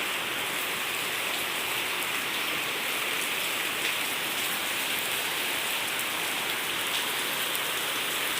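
Steady, dense rain falls on surfaces nearby in a village, a constant hissing patter without pauses or voices.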